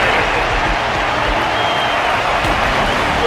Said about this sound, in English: Their constant applause is a salute to this resilient Belobogian fighter.